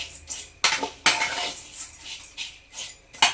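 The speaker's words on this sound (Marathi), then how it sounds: "आता आपले इथं पोहे भाजून झालेले आहेत" Poha flakes roast in a pan with sharp metallic scrapes and clinks of a utensil against the pan, several irregular strikes up close and no talking.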